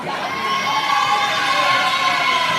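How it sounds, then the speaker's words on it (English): A crowd cheers and shouts steadily at a high school volleyball game in a gym, a dense, loud wall of voices that holds at a constant level throughout. "lot of cheering from the crowd is what's going to be happening"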